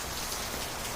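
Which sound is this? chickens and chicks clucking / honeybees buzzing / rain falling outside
rain falling outside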